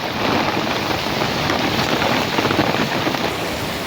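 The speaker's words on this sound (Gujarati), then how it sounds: "તો મિત્ર પવન સાથે જોરદાર વરસાદ આવી ગયો" Heavy monsoon rain driven by wind pours over a farm with cotton fields, a dense, loud, steady hiss of drops close by with no pauses.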